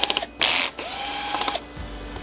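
A bottom screw with a large washer comes out of a Sony XBR-65X900C 4K TV, with short close whirring and ratcheting mechanical bursts and clicks over about two seconds.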